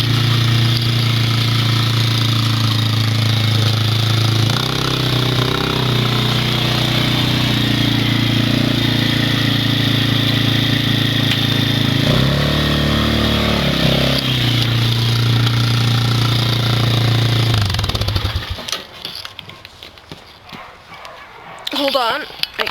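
Arctic Cat 90 ATV engine running steadily during a ride, a loud continuous low drone that holds for about eighteen seconds before cutting out, leaving quieter handling noise and a voice.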